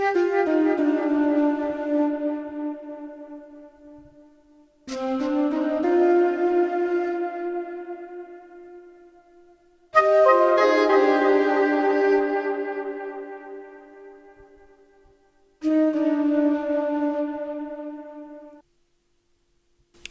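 Layered flute and saxophone melody with heavy delay, four sustained phrases each starting sharply and fading into a soft trailing echo, played alone without voices.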